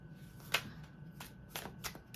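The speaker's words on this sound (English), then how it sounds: "I'm going to do one more shuffle." A deck of cards is shuffled quietly up close, a few short papery riffles and flicks separated by brief pauses.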